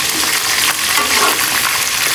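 A batch of food for white korma chicken sizzles loudly in a pan of hot oil, with a steady dense crackle and no talking.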